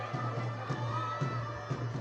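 Stadium crowd noise from Drukpa FC's cheering squad at a Bhutan Premier League match against Transport United, a steady distant roar with soft rhythmic pulses repeating about every half second.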